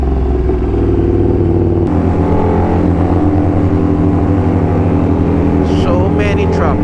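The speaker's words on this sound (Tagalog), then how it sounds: "So many trucks." Trucks rolling past on a road near a Shell station in Mamplasan, loud heavy engine rumble close by with a sharp shift as one passes, and voices chattering over the traffic.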